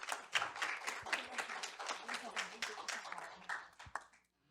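A seated audience at a branding talk claps steadily for several seconds, a dense, moderately near patter of many hands that tapers off abruptly at the end.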